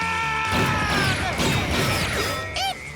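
A bazooka round slams into bulletproof glass in a cartoon adventure game, one loud crash with a bright ringing shatter and then a short high metallic whine as it dies away.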